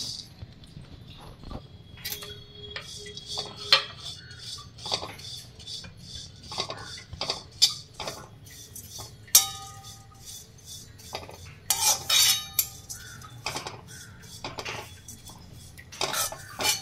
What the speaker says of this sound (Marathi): आता आपल्याला सुकट तेल न वापरता पहिला भाजून घ्यायचे आहे।